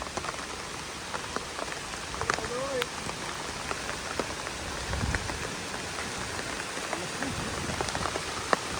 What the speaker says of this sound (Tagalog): Sumulan na, inulan na kami dito.